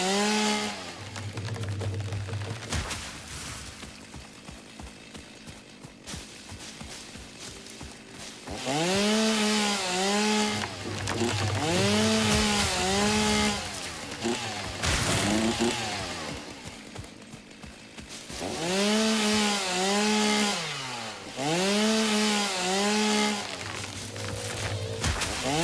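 A chainsaw cuts a fallen tree that lies above the ground, its engine rising and falling through repeated loud revving surges between rougher idling and cutting passages, close by and continuous.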